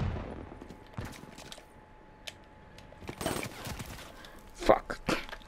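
Gunfire from the Call of Duty: Black Ops III multiplayer game comes as scattered, fairly faint shots and short bursts beneath steady game background noise, with someone talking over parts of it.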